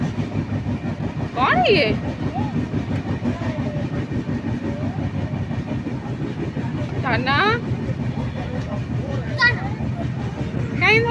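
A passenger train runs along its rails, with a steady low rumble and rhythmic clatter heard from inside the carriage throughout, while people chat nearby and brief squeaks break in now and then.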